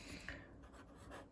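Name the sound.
writing down a measurement with a pen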